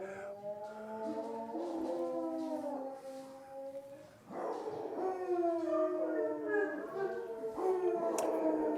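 Several female dogs howl together in long, rising and falling wavering notes that overlap and swell, a sustained chorus that gathers again after a brief dip in loudness.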